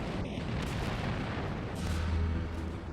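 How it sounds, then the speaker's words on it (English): Huge magazine explosion aboard the British battlecruiser HMS Hood after a Bismarck shell pierces its deck armor: a loud, dense, roaring blast that rumbles on steadily for about three seconds with no voices. "There was a huge explosion."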